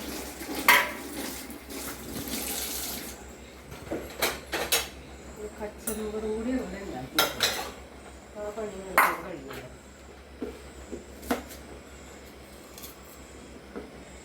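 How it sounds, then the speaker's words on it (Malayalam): Dishes and pots are washed quickly in a home kitchen, with scattered clinks and clatters of metal and crockery. Water runs at times, sharp pings stand out between the clatters, and a voice talks over the clattering. "പാത്രമൊക്കെ വേഗം വേഗം കഴുകി മാറ്റാണ്"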